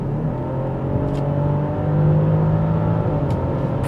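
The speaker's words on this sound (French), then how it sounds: "nous avoir greffé Ce moteur 6 cylindres en ligne qui est vraiment exceptionnel" BMW X5 45e plug-in hybrid SUV with an inline six-cylinder engine, a steady droning hum that swells slightly as it revs, close and continuous with no talk.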